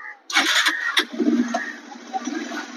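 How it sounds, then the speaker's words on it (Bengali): Bajaj Pulsar 150 BS6 motorcycle starting up after repair, a couple of quick cranking bursts that catch into a running engine. "গাড়ির সাউন্ড আপনাদের শোনাচ্ছি, দেখুন গাড়ির সাউন্ড একদম"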